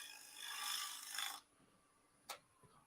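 A shear scraper rasps against spinning wood on a lathe, smoothing out a gouge cut with a steady, faint scraping for over a second. It then stops, and a single soft tick follows.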